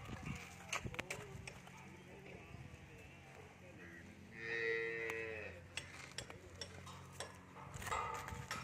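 A dairy cow at a farm in Udumalpet gives a sustained moo midway, with hoof clops and farm noise around it, while someone talks in Tamil through much of the scene.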